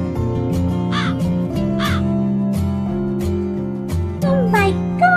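A crow caws repeatedly in short, evenly spaced calls over steady, tonal background music, loud and close, with a final cluster of caws near the end.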